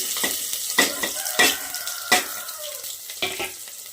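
Chopped onion and slit green chillies hit hot mustard oil with a sizzle, followed by several sharp stirring scrapes spaced about every half second over a faint steady frying hiss, close and moderately loud.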